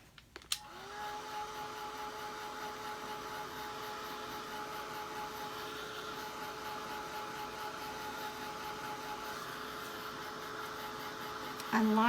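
An electric dryer blows over fresh paint on a sunflower and chick painting, a steady close whirring drone with a faint tonal whine that holds level for about eleven seconds before clicking off.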